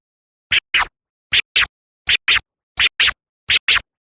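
Rhythmic chirp scratching on a record with a crossfader, in quick pairs of bursts, five pairs evenly spaced, each burst cleanly chopped off into silence.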